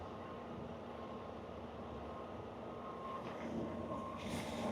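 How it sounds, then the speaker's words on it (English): A large truck engine rumbles steadily in the distance at a trucking dock in Pennsylvania, with faint high beeping and a hiss rising toward the end. "look at that, another truck coming."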